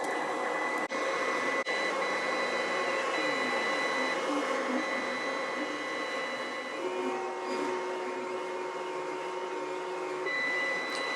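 A Weedo X40 IDEX 3D printer drives its axes during bed probing, with faint, steady stepper-motor whines at several pitches, a couple of brief clicks, and pitch shifts as the moves change.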